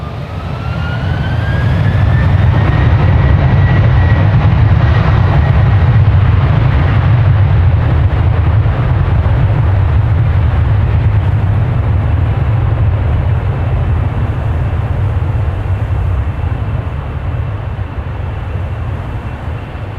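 A jet airliner takes off at Amsterdam Schiphol Airport, a loud, sustained roar with a deep rumble that holds for the full stretch, a whining tone fading in the early seconds.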